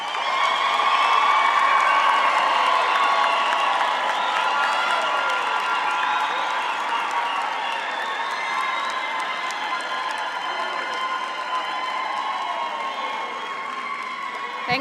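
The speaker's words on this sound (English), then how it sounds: "Let's give them a hand of applause." A large crowd at a university graduation ceremony applauds the standing graduates, a dense, sustained wash of clapping mixed with cheers and whoops that stays loud throughout.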